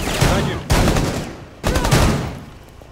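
Two booming shotgun blasts in Rainbow Six Siege's Oregon Terrorist Hunt, roughly a second apart, each a sharp loud crack that trails off into a decaying rumble, with no voices over them.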